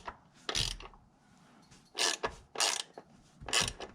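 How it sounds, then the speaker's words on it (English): A socket wrench ratchets in short bursts while snugging throttle body bolts into aluminum during a BBK 62mm throttle body install on a Jeep 4.0, about four brisk clicking runs separated by quiet pauses, close by. "I'm just holding my hand right here on the wrench, and I'm just going till it's snug."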